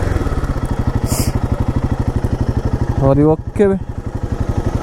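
A light motorcycle engine chugs steadily with a fast, regular putter close by during a ride, while a person speaks briefly over it.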